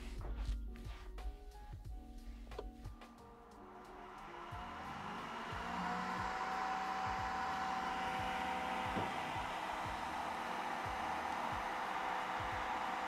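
A 3D printer cooling fan fitted with a DIY noise-reducing mod whirs with a steady broadband airy hum. It begins among clicking mechanical sounds and then settles into a constant whoosh, moderately loud and near.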